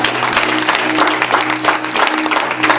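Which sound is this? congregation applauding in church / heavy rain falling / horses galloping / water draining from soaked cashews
congregation applauding in church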